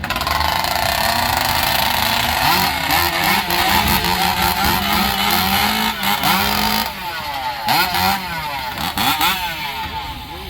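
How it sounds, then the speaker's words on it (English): Modified racing chainsaws at a Stihl exhibit in Kalispell, Montana, scream at full throttle. The roar is extremely loud, close and continuous, with revving pitch sweeps and a slight drop near the end, with no talk. "But while doing all of that, it also makes the saws very, very loud."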